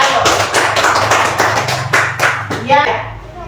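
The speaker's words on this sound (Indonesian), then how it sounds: "Kita kasih tepuk tangan untuk Ayo." Schoolchildren in a classroom clap their hands for a classmate, a quick run of sharp overlapping claps close by, with young voices mingling briefly before it fades.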